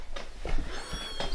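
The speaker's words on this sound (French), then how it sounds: "Un petit chat qui se balance" A small cat gives several short meows in quick succession, close and fairly clear, over light background noise.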